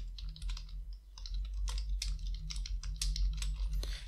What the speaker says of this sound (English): and I can type whatever I want